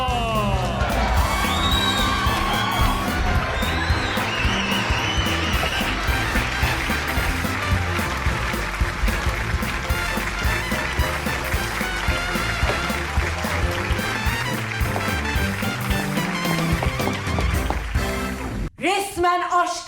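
A theater audience at a Turkish cabaret show erupts in loud, sustained cheering, whooping and applause that fills the room almost without a break as performer Yaman Pekyaman is welcomed onstage.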